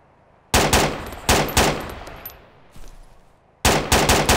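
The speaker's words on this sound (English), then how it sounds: "Just taking fire." Automatic gunfire from the video game Arma 2 DayZ: two loud bursts of rapid shots near the start, a fading tail with scattered echoing reports in the middle, then another close, loud burst at the end.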